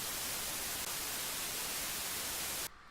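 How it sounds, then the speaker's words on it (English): Loud, dense white noise test signal played back steadily and evenly, then cut off abruptly near the end, leaving only a faint hiss. "that loud white noise"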